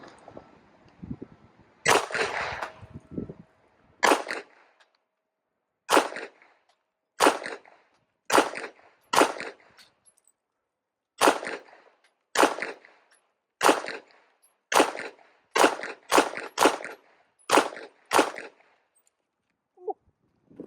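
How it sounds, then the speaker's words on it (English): A Smith & Wesson M&P 2.0 Metal 9mm pistol fires 147 grain reloaded ammunition at a range: about sixteen sharp, loud shots spaced roughly a second apart, with a short burst of noise near the start. "I'm shooting some 147 grain reloaded ammunition."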